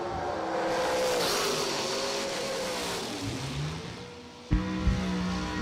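A drag race car engine revs hard at a drag strip, a rising and falling roar that fades off into the distance. A sharp burst of engine noise returns near the end.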